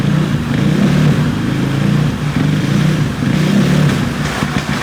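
A motorcycle engine revs gently during calibration, the throttle opened slowly in loud, close surges of rising and falling rumble.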